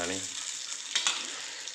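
Cumin seeds and curry leaves sizzle steadily in hot oil for poha, a bright, continuous frying hiss close by with a couple of louder crackling spurts midway.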